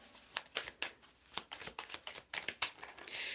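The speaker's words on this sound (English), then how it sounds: "Did you see how I was having a hard time shuffling the cards?" Tarot cards being shuffled by hand: a quick run of crisp riffling flicks in an irregular rhythm, close and fairly quiet, ending in a longer softer slide.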